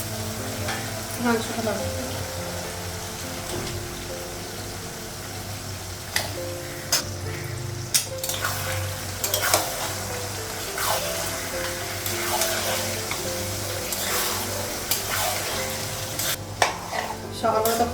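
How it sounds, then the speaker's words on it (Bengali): Spices frying in a pan in a home kitchen, a continuous sizzle with stirring scrapes and occasional clinks of metal, while a voice speaks briefly over the cooking. "মশলাগুলো ভেজে নেব।"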